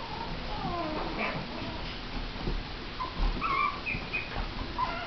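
A young puppy whimpers and whines in soft, high rising and falling cries, several brief whines over a low background rustle, close but fairly quiet.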